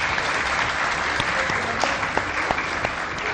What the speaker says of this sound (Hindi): तो तालियां हो जाए ना फिर आपकी